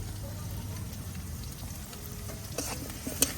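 Onion and chili fry in a pan with a soft, steady sizzle, and toward the end a few sharper scrapes and clinks come through, with no speech.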